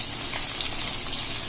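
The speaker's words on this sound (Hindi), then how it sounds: "प्याज को भूनेंगे जब तक ये ट्रांसपेरेंट ना हो जाए।" Onions frying in hot oil with whole spices in a pot for aloo gosht, a steady dense hiss and crackle heard close up, no talking.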